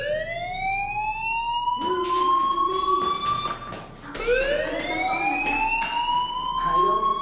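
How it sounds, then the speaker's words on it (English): A school fire alarm rings in the Life is Strange video game, a loud rising electronic siren tone that repeats in long sweeping wails, with faint background sounds and no talk. "Hey, do you hear that fire alarm?"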